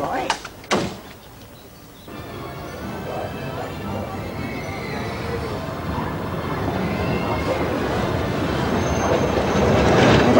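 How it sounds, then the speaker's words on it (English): A tram runs along rails with a steady rumbling roll that grows gradually louder over several seconds. A couple of sharp knocks come early on, and people talk over the noise. "They've still got trams up here."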